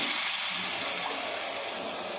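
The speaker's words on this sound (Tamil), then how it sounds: "இப்போ வந்து நம்ம தண்ணி ஊற்றிடலாம்" Water pours steadily into a pot, a continuous close splashing rush with no voices.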